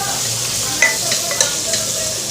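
Mutton sizzles and fries in a pan with garlic and small potato pieces, with a few sharp utensil scrapes and stirring clinks over the steady hiss.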